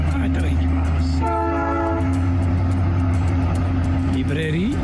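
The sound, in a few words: train passing through town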